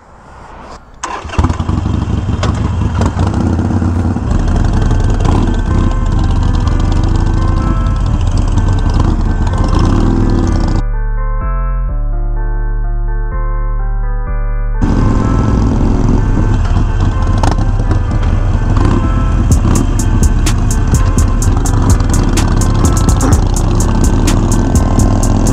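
Harley-Davidson Iron 1200 motorcycle with Vance and Hines slip-on exhausts cranks and fires up, then settles into a loud, close rumbling idle with a brief dip in the middle before revving again.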